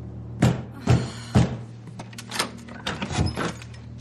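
A door is banged and kicked in: three heavy, evenly spaced thuds, followed by a looser cluster of knocks and bangs, close and loud with no talk.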